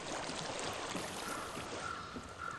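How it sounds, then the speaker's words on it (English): Steady flowing water, like a nearby stream, runs continuously as a soft broadband rush in the video game Hellblade: Senua's Sacrifice, with no voices over it. "I hear water."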